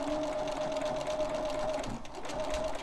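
Sewing machine stitching along a seam on a quilt-as-you-go block, a steady close hum with rapid needle chatter running continuously, briefly dipping midway before resuming, with no talking.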